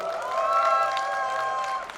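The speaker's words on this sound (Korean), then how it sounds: "홍익표, 홍익표에게 여러분 큰 박수 부탁드립니다." A crowd at a Korean political rally outside a Daegu department store applauds a lawmaker, a broad spread of clapping and cheering heard through a loud, tonal sound system hum.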